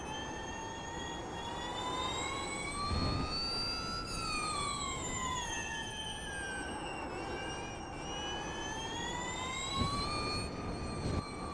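An electric Porsche Mission R race car in iRacing gives off a steady, high-pitched whine whose pitch rises and falls smoothly as speed changes, with a faint background rumble and a few small clicks, heard alone.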